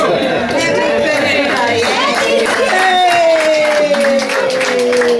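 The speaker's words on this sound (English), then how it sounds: "I'd like everyone to just give her an applause or raise your glasses" Guests at a birthday gathering clap together, a short burst of applause mixed with lively chatter and overlapping voices close by.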